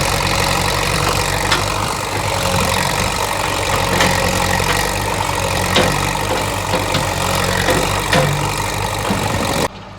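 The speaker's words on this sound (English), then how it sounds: "That tractor's pretty loud when you're trying to videotape." A farm tractor's engine runs steadily nearby, a loud, continuous low rumble that holds throughout with no breaks, then cuts off abruptly at the very end.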